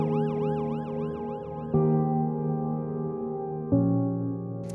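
An ambulance siren wails in rapid rising-and-falling cycles, then fades into a steady tone under a low hum, with two abrupt thumps, heard from inside the ambulance.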